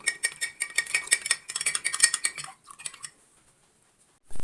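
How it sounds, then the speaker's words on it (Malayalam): A spoon mixes custard powder with milk, clinking rapidly against the sides of a vessel in quick, bright strokes for a couple of seconds, then slowing to a few light taps before stopping. "അതിലേക്ക് കുറച്ച് പാലൊഴിച്ചിട്ട് നമ്മളൊന്ന് മിക്സ് ചെയ്ത് വയ്ക്കാം"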